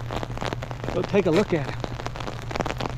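Steady rain patters over an open field where a crane stands, a constant close hiss of drops with faint crackles, while someone talks over it.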